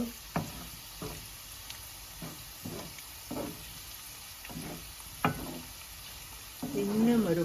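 Steady sizzling of chicken pieces deep-frying in hot oil, with occasional knocks and stirring sounds, crackling continuing throughout.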